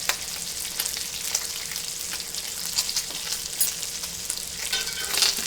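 Bacon frying in a pan until crispy, a continuous close crackling sizzle with bright spattering pops throughout and a few louder bursts near the end, no one speaking.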